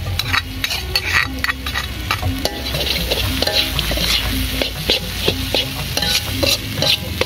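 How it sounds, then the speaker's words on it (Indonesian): Softened ingredients are stir-fried with spice paste in a pan, with a steady sizzle and repeated scraping of a spatula against the pan, close and loud, and no voices. "kita langsung tumis, disatukan sama bumbu ya sobat"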